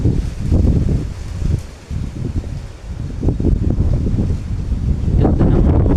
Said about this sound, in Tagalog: Mahangin dito, medyo malakas, saka malamig dito.